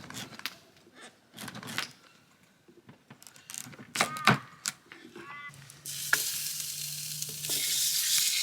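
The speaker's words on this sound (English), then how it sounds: "That's the sizzle we want." Pumpkin pieces sizzling on a hot plate over a campfire in oil rendered from Italian sausage, a steady loud frying hiss that swells in the second half after scattered clatter and light handling noises.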